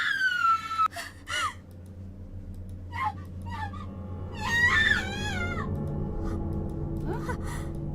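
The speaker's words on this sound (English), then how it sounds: "Why was Emmy screaming?" High wavering cries from Emmy in the horror game Corpse Party: Book of Shadows, a sharp shriek at the start and another rising, trembling wail near the middle, set over low droning game music.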